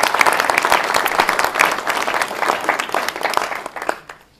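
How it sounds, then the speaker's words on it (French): Audience applause at a New Year's greetings speech in a village, a steady wash of many hands clapping close and loud for about four seconds before tapering off abruptly at the end. "On peut même l'applaudir parce qu'il y a eu beaucoup de boulot fait."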